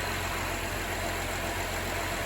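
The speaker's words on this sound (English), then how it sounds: "I'm gonna just let the car run" A 2016 Honda Accord V6 idles steadily and close by, a low continuous engine hum with a faint high whine above it and no talking.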